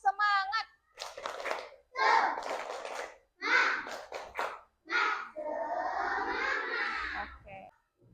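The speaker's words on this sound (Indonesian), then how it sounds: "Sekali lagi tepuk semangat." Children in a classroom repeat a rhythmic spirit clap, chanting in short bursts with quick claps mixed in between, finishing with a drawn-out group shout.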